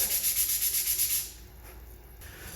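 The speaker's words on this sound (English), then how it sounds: "so the gussets are now sanded" Wooden gussets for a police box build sanded by hand, about eight quick rhythmic rasping strokes up close, then the rubbing stops and only faint room noise remains.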